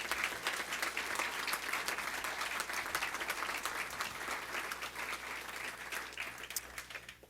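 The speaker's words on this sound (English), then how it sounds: "Let's give him one more round of applause." Audience applause at a Board of Education meeting honoring a student art exhibit entrant: steady, dense clapping from a room full of people, sustained evenly for the whole stretch with a faint low hum underneath.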